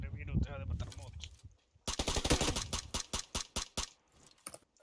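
Rapid bursts of automatic gunfire in a video game, a quick string of sharp shots after a voice speaks, then a few more scattered shots.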